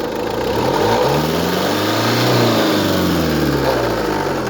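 A 1984 Mitsubishi turbo diesel engine runs steadily nearby, a loud, continuous low rumble with a slight swell in revs midway and no voices.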